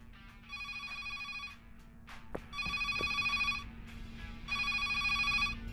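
A telephone rings in three long electronic bursts separated by short pauses, fairly close and clear, with a few faint knocks in between.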